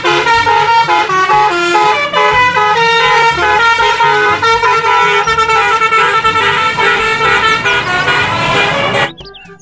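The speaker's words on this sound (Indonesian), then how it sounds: "Yang ini ada mobil bus telolet." A toy bus plays a telolet horn: a loud, continuous melodic tooting tune of bright electronic horn notes, repeating in a steady rhythm close up, ending abruptly.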